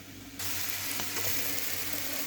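Spiced dahi soybean masala sizzling and frying in a kadai, a close, steady crackling hiss that swells suddenly after a brief quieter start.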